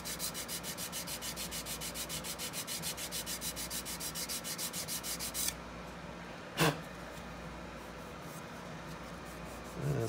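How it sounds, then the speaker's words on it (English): Sandpaper rubs along a seam on an HO scale model building kit being converted to 1/64 scale, in quick, even back-and-forth strokes for about five seconds before stopping, followed by a brief click and quiet handling. "I'm just going to sand that up."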